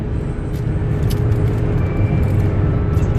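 Steady broadband road rumble from inside a car at loud, constant level, engine drone and tyre noise continuous throughout with a few faint higher ticks.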